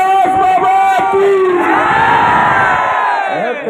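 A large crowd at a stage show shouts a loud, sustained jaikara chant to Ghasidas Baba, many voices roaring together in one swelling cry that fades out near the end.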